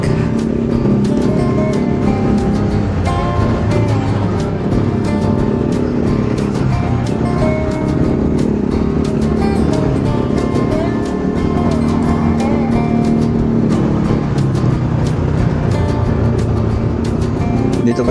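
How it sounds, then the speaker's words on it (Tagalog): Steady early-morning road traffic on a mountain route about two hours from Baguio, a continuous loud engine and tyre rumble from passing vehicles filling the whole stretch without pause. "Wow, early morning traffic."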